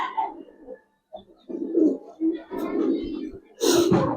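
A male Giribaz pigeon gives a series of excited, throaty coos up close, in short bursts with brief pauses, ending with a louder, fuller call.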